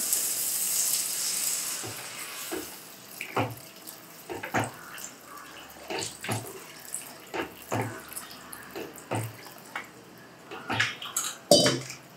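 Water runs and splashes into a pot of vegetable kurma curry, a continuous pour with scattered clinks and sloshing bursts, fairly close and with no talking.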